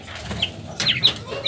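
A few short, high-pitched chirping calls from a peacock chick, spaced irregularly over low background rumble.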